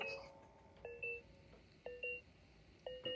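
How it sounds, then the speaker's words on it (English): Short electronic beeps during an online game of Among Us Hide N Seek, sounding in three distinct pairs spaced about a second apart, crisp and fairly loud over a quiet background. "I hear beep beeps."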